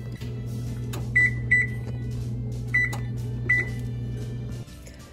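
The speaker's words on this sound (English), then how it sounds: "I may throw them in the oven just for like a couple more minutes." A home oven beeps as a tray of homemade dog biscuits goes back in: a steady motor hum runs throughout, with four short electronic beeps spaced apart and a couple of faint clicks, no talk.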